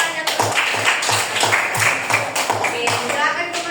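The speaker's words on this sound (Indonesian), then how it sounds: "Tepuk tangannya tuh." Children in a classroom coding lesson clap together in a quick, rhythmic pattern of crisp handclaps, with voices chattering and calling out over the clapping throughout.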